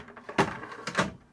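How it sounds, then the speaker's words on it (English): A drawer in a video streaming equipment rack slides open with two quick scraping bursts, up close and without talk. "We have a drawer."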